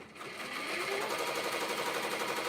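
A sewing machine stitches the casing of a tutu, starting up after a brief quiet moment and then running in a steady, fast mechanical whir close by.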